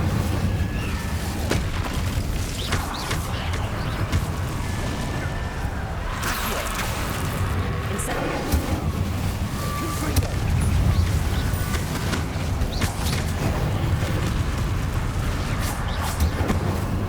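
Spell combat in Hogwarts Legacy, with the Incendio fire spell cast amid loud booms, crackling bursts and crashing impacts in dense succession, heavy and close throughout.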